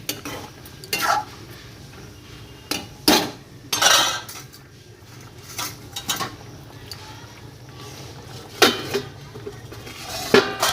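A utensil stirs cumin paste into a hilsa fish curry with taro in a pan, giving a series of irregular scraping and clinking strokes against the metal, with quiet gaps between them and a faint background hum.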